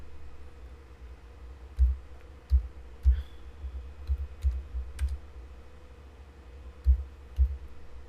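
Computer keyboard being typed on, a sparse series of separate clicking keystrokes with irregular pauses, close and fairly clear with no talk.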